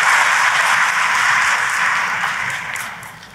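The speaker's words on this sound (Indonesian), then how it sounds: "Oh kalau mau tepuk tangan yang paling meriah saudara" Church congregation applause during a sermon, a broad, steady roar of many hands clapping that gradually tapers off, with no speech over it.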